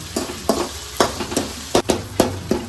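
Tomato and onion masala for a mackerel curry frying in a pan, a steady close sizzle broken by regular scraping stirs about every half second.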